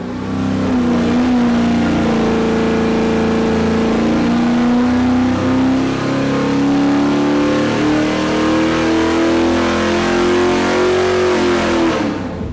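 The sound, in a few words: crate engine revving during dyno pull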